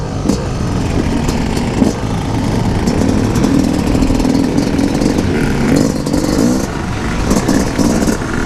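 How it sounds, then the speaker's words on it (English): A 2019 Yamaha YZ250 two-stroke dirt bike engine runs steadily and close by for the whole stretch, a dense, buzzing drone with small rises in revs and no talking. "this is the 2019 YZ250 2-stroke"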